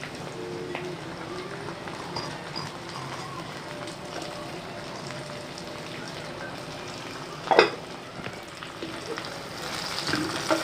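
Tomatoes and ginger garlic paste fry in a pan with a steady, low sizzle, broken by one brief clatter of stirring near the end.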